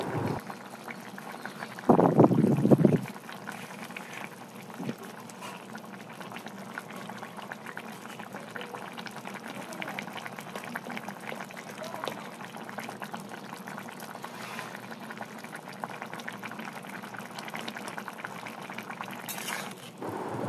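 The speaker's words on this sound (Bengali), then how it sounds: "ডিমের পকোড়াগুলোকে দিয়ে এরপর খুব ভালো মতো একসাথে নাড়িয়ে ফুটে নিতে হবে" Rohu fish roe curry with fried roe pakoras bubbling steadily in a pan, a brief louder clatter early on, then an even, continuous simmer.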